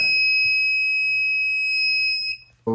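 An active buzzer in an Arduino ultrasonic distance sensor circuit, a loud, steady, shrill electronic tone held close for over two seconds before it cuts off abruptly.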